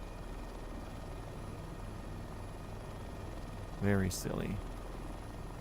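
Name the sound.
Bell 412 helicopter flying in a video game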